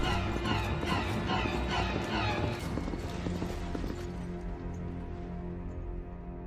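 A horse's hooves clip-clop in a rapid rhythm alongside whinnies, loud and layered with a dense musical score in a dramatic scene.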